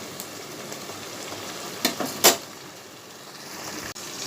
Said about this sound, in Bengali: আমি আজকে রাঁধুনি আর কাঁচা লঙ্কা ছিঁড়ে দিয়ে শাপলা ভাজা করছি।